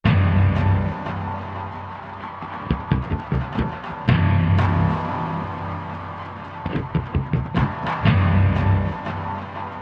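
A sampled guitar preset called Annoyance from 8Dio's Emotional Guitar library plays a dense, buzzing, irregular strummed texture with choppy bursts, loud and close, no voice.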